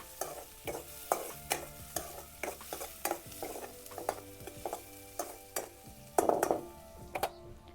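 Onion frying in a pan until reddish, stirred with repeated scraping strokes in a steady rhythm over a soft background sizzle, close and moderately loud with no talking.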